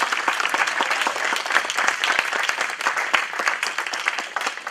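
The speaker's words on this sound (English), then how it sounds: "I want to say that the WARA volunteer team needs a round of applause" Audience at an African innovators event applauding the volunteer team, a lively, dense crowd clapping with many sharp individual claps standing out, continuous throughout with no speech on top.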